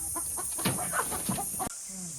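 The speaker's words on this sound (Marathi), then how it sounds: "गावठी बाजारात गेलं तर ही माका कोंबडी मिळाली" A village hen bought at a weekly country market in Kudal clucks in short soft bursts close by, with faint talk and outdoor noise around it.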